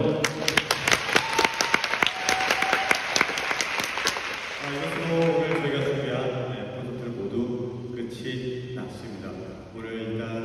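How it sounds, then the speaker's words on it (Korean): A concert audience at a 10th-anniversary musical concert applauds with sharp, close hand claps for about four seconds before a voice starts talking over fading applause. "박수 많이 쳐주셔서 감사하고"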